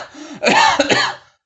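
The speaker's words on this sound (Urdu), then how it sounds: "اسے زور کی کھانسی اٹھی" An old man's strong, harsh coughing fit, a short raspy burst of two or three rough coughs close up, heard alone without talk.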